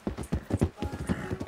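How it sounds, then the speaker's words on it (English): Hooves of a galloping horse in the Western video game Red Dead Redemption 2, a quick, steady thudding rhythm of close, fairly faint hoofbeats, with no talk over them. "This is also one of those horses that do not stop."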